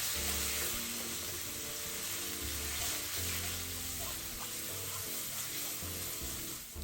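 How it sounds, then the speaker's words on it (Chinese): Chili paste stir-fried in hot oil for a fish head curry gives a steady, continuous sizzle with faint scraping from stirring, loud and close with no voices. "油要能均匀裹住辣椒糊，炒到油与酱分离，出油才算到位"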